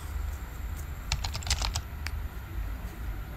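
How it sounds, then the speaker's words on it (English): Computer keyboard typing: a quick burst of soft key taps, clustered and close, over a faint steady hum with no voices. "so we're gonna be adding a keyboard tapper."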